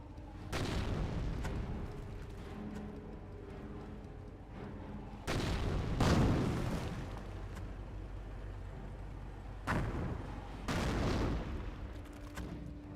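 Double mortar artillery fire in the Company of Heroes 1 video game, several heavy booms spaced irregularly, each with a rumbling tail, and no talk.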